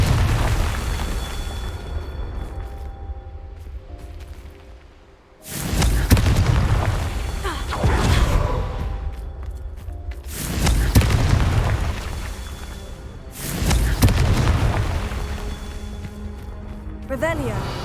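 In the Hogwarts Legacy video game, Confringo fire spells burst in a series of heavy booming blasts. Four big explosions come roughly every three seconds, each fading into a rumble over game ambience, with a voice heard among them.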